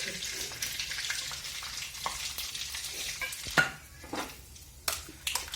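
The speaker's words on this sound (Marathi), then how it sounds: "बघा आता आपल्याला जिरे मोहरी फोडणी घ्यायची एकदा" Cumin and mustard seeds temper in hot oil, crackling and popping with a soft steady sizzle. Occasional sharper pops stand out against the quiet frying.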